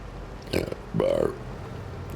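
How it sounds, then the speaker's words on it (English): A person lets out two burps at close range, a short one followed by a longer, deeper, drawn-out one, over a quiet background. "Somebody burped."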